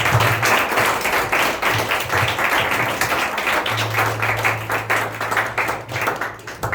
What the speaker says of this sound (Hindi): क्यों ना हम जोरदार ताली परमेश्वर के लिए बजाएं।